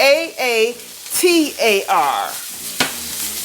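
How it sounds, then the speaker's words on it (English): Marcato peppers sautéing in a pan give a soft sizzle running beneath steady talking from a voice in the kitchen. "Just going to saute these peppers in here."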